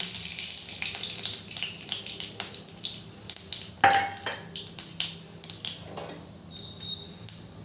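Bay leaves and cumin seeds sizzle and crackle in hot mustard oil for a Bengali vegetarian banana-flower dish, a steady close frying hiss broken by sharp clicks and stirring clatter of a pan.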